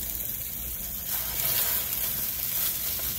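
Ground beef burger patties sizzle and crackle steadily in a greased pan at home, a close, continuous frying hiss that grows louder partway through, with no talking.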